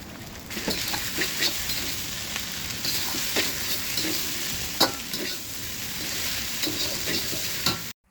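Chicken, onion, duck egg and boiled noodles with their seasoning stir-fried in a pan: a steady close sizzle runs throughout, broken by repeated scraping knocks of the spatula against the pan, with no voices.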